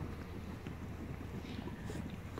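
A steady, dense rushing hiss with low rumble, continuous and unbroken, of water leaking from an underground pool pipe.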